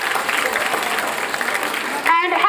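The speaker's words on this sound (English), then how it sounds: "Clap for him." Applause from a school audience during an inter-house general knowledge quiz, a steady wash of clapping that ends abruptly as a voice begins speaking over it.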